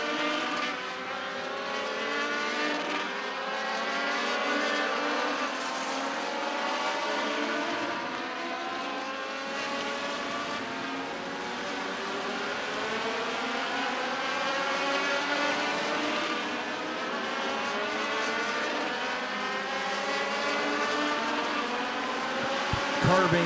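Race cars lap the Midvale Speedway track, their engines a continuous wavering roar that rises and falls as cars pass, heard from a distance.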